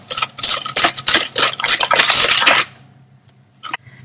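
A spoon scrapes and clinks rhythmically around a bowl as beaten egg is stirred into creamed butter and sugar for a lemon drizzle cake, rapid close strokes that stop abruptly, followed by one brief knock.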